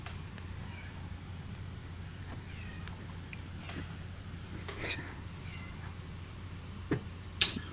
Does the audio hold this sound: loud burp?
no